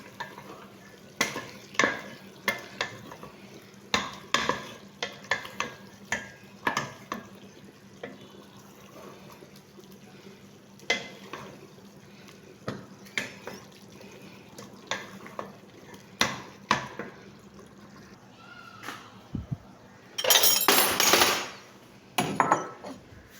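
Beef cooks in a pot while a utensil stirs it, giving repeated scraping and clanking knocks against the metal in an irregular rhythm, ending in a louder sizzling burst.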